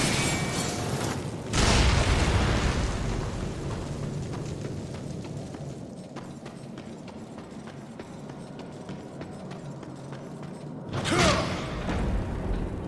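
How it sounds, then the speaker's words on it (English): Bomb lit and detonated in the Darksiders game, a burst of noise at the start followed by mechanical rumbling and creaking, with a second sharp blast near the end. "now let's light the bomb"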